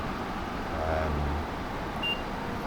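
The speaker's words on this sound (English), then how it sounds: "My train is beeping at me." Warning beep from an ACS-64 electric locomotive cab in the Train Sim World 2 game on the Boston to Providence line, a few brief tonal bleeps over a steady low engine and cab hum.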